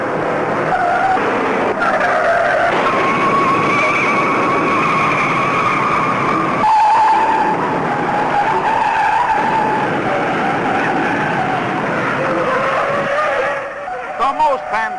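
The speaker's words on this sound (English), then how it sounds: "The most fantastic pileup in auto racing history takes 37 cars out of the race." NASCAR stock cars skid with screeching tires and engine roar during a massive multi-car pileup on the track, loud and continuous for most of the span, with excited commentary over it.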